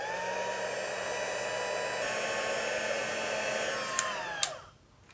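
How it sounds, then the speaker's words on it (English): Steady whooshing roar of a Stampin' Up heat tool held an inch from paper on its number 2 setting, melting embossing powder; the blowing runs continuously, then two short clicks and the airflow winds down and cuts off near the end. "I'm going to use my heat tool to melt the embossing powder"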